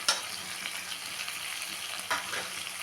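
Potato and kohlrabi being stir-fried with spices, salt and slit green chillies in a pan: a steady, soft sizzle with a couple of louder scrapes of the spatula, and no voices.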